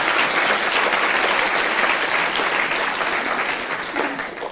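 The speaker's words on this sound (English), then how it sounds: "So a round of applause for all our panelists." Sustained applause from a conference audience honouring a panel of speakers, dense and steady throughout before tapering slightly near the end, with no voices over it.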